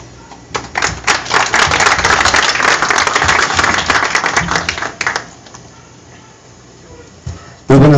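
A crowd of residents gives a loud burst of applause to welcome the municipal president at a neighborhood street rehabilitation event, the dense clapping lasting about five seconds before fading into quiet murmur.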